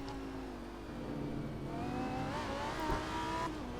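A Pagani Zonda racing in a video game, its engine note climbing and shifting as it revs hard through the gears, with a brief tire squeal near the end, loud and up close with no talk.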